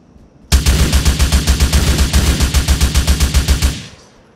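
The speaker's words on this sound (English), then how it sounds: "Shots fired." Rapid automatic gunfire in GTA IV, a loud sustained burst of evenly spaced shots lasting about three seconds before stopping abruptly.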